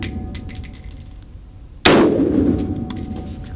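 An AR pistol fires at an indoor range, one sharp loud report that rings and decays over about two seconds against steady background hum.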